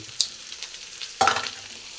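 Ginger paste, tamarind and grated coconut frying together in a pan for a pirandai thuvaiyal, with a faint sizzle broken by two brief, sharp stirring clinks of a spoon against the pan.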